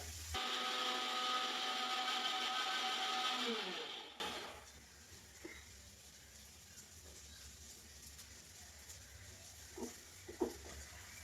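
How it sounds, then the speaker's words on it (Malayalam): A mixer grinder whirs loudly and steadily while grinding coconut with water, then cuts out abruptly after about four seconds, leaving quiet room tone with a few faint clicks and knocks. "അപ്പം തേങ്ങയെല്ലാം നന്നായിട്ട് അരച്ചെടുത്തിട്ടുണ്ട്"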